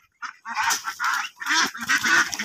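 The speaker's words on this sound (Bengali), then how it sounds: "আজকে রাজহাঁস ধরবো" Geese honking loudly and repeatedly in a rapid, overlapping series of harsh calls as they are being caught, close by, at a poultry spot in Saudi Arabia.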